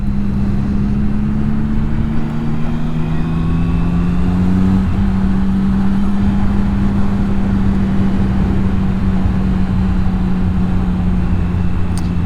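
A three-cylinder motorcycle rides through nearly empty Tokyo streets toward Ginza on New Year's Eve day, its engine a loud, steady drone with one brief pitch shift midway, over constant wind rush.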